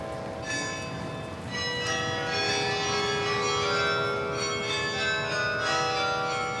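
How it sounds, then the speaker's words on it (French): The 62 bells of a belfry carillon ring together in a dense, sustained peal, layered tones overlapping continuously with no voices. "On entend le carillon du beffroi, les 62 cloches viennent de s'agiter ici"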